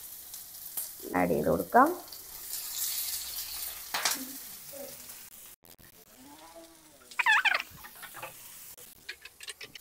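Masala and ginger fry in a pan for biryani, giving a soft continuous sizzle with brief bursts of voices and other sounds breaking in over it.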